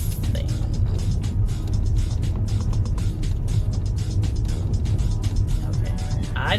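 Car driving through a city park, heard from inside as a steady low road rumble and engine hum with faint ticking and rattles, constant and close with no talk.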